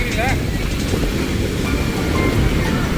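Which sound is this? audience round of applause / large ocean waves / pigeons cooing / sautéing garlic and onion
large ocean waves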